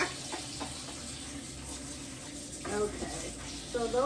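Freshly harvested lettuce rinsed under running tap water, a soft steady stream splashing over leaves while a person talks over it.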